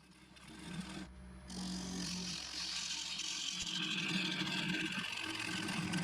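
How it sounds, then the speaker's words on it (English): A freshly resharpened 3/8 bowl gouge hollows out an ash bowl spinning on a wood lathe, giving a steady, continuous scraping rasp with a low motor hum beneath, close and fairly loud throughout. "I could begin hollowing out the bowl, For this I used the 3/8 bowl gouge, which I had just resharpened"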